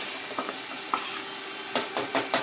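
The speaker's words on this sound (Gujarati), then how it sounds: "આદુ, મીઠો લીમડો, લીલા મરચાં અને ટમેટું। હવે આ બધાને થોડીક વાર સાતળી લઈશું" Ginger, curry leaves, green chillies and tomato sautéing in a pan, with a soft background sizzle and several sharp metallic scrapes and clinks of a spoon stirring against the pan, close up.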